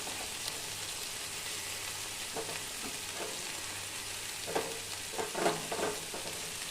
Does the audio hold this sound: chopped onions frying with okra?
yes